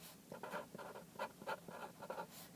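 Pencil or pen writing out a sentence by hand during a math lesson, a series of short scratchy strokes in quick bursts, close and fairly quiet, with no talk.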